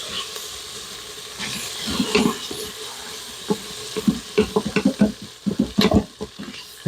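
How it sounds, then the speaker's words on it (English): A utensil scrapes browned fond off the bottom of a hot Instant Pot insert while liquid sizzles and hisses, with irregular scraping strokes growing busier and louder toward the end. "you want to get that fond scraped off the bottom and deglaze your Instant Pot"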